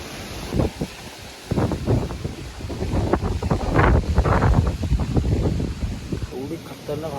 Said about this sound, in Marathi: पण हवा एवढी खतरनाक सुटली